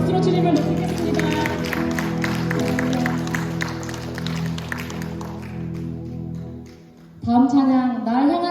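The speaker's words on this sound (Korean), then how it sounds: "박수로 주님을 높이겠습니다" A church congregation claps and cheers during a Sunday worship service, steady applause filling the room and fading out, followed by a person speaking alone.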